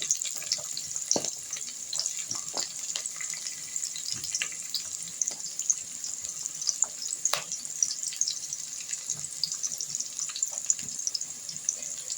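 Garlic, onion and carrots sizzle steadily in a hot pan, a close, even hiss with occasional clicks and stirring scrapes.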